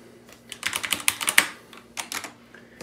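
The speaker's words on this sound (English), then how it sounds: "So let me open up a notepad really quick and I'll just type some stuff." Bursts of quick clacking keystrokes on a Redragon K552 TKL mechanical keyboard, close and crisp, in two runs separated by a short pause.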